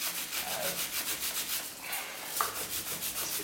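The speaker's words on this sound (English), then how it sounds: "Just to give her a nice good scrub. Get all that dirt out of there" A bicycle chain scrubbed with a Tirox chain care brush, making a continuous close-up bristly rubbing with a quick steady back-and-forth rhythm and a small click near the end.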